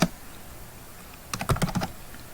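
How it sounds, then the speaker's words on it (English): A quick burst of keystrokes on a computer keyboard follows a single faint tap, several crisp clicks clustered together, soft and close with no talking. "So let's type here email."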